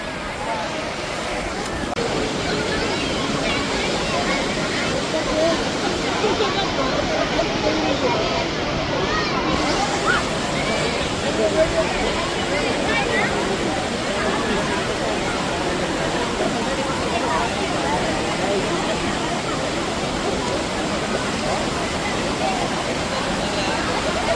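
River water rushes and splashes steadily around swimmers, a constant loud wash of noise with faint voices mixed in.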